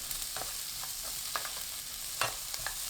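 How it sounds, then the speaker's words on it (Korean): Minced garlic sizzles in hot cooking oil over high heat in a pan, crackling steadily with occasional louder pops and the scrape of stirring, close by and without voices. "팬에 식용유 1큰술, 다진 마늘 1큰술 넣고 센 불로 볶습니다"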